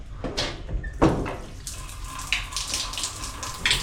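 A shower in a small bathroom in Tuvalu starts running, with knocks and thumps first, then a steady hiss of flowing water with a few splashes.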